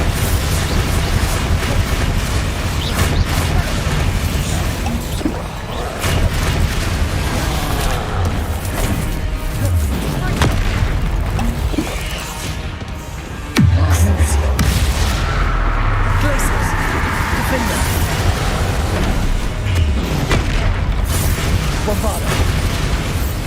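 Repeated Bombarda spell explosions in Hogwarts Legacy sound as heavy booming blasts over dense, continuous combat noise, with a loud sudden impact near the middle and a voice calling out during the fight.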